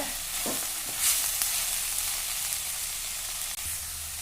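Steady sizzling and frying of vegetables in a hot pan for a veg sandwich filling, a continuous hiss with a brief stirring scrape near the start, close and moderately loud.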